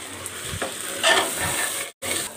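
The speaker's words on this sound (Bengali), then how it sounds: "এই পর্যায়ে আমি দুটো তেজপাতা আর কাঁচামরিচ, ছোটো কাঁচামরিচ আস্তে আস্তে দিয়ে দিলাম।" Two bay leaves and small green chillies hit hot oil in a pan, giving a steady close sizzle with stirring scrapes and a brief cut near the end.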